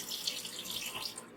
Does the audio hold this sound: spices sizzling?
no